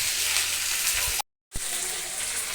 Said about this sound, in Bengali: ক্যাপসিকামগুলোকে একটু সাঁতলে নিয়ে